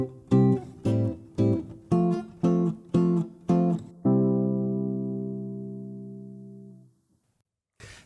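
Rhythmic chord strums follow a progression in which a vi minor chord replaces the second half of the first measure, ending on a long sustained chord that fades to silence.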